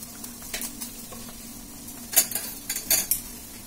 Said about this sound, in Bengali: এবার ধীরে ধীরে আমি এগুলোকে নেড়ে দেব এইভাবে।